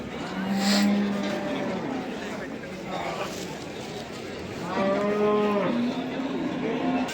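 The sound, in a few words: buffalo mooing at a cattle market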